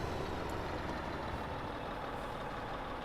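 Truck engine in Farming Simulator 17, reversing too fast toward a trailer on a farm map, a steady low drone that holds at an even, moderate level with no clear pauses.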